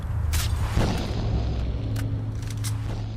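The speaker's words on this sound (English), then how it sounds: "So many poltergeists" Poltergeists in the STALKER Shadow of Chernobyl video game, heard as a steady low rumbling drone with a few crashing, booming thumps and rattles over it, continuous and fairly loud, with no voices.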